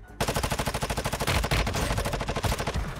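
An STB gun fires full-auto in a video game, a loud, fast, even burst of close shots that runs almost unbroken for about three seconds.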